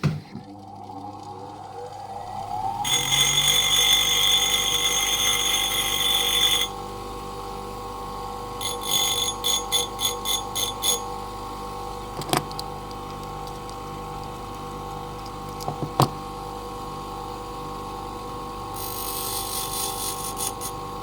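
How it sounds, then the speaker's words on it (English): A grinder trims the tensioner pin of a Squire 440 padlock with a loud, bright, steady whine lasting a few seconds. Later come shorter, fainter grinding passes and a couple of sharp metallic clicks. "I just need to take a little bit off with the grinder and keep doing that until it just catches"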